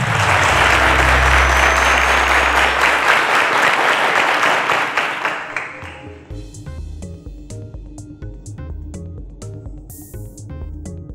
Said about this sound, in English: A round of applause to them, ladies and gentlemen.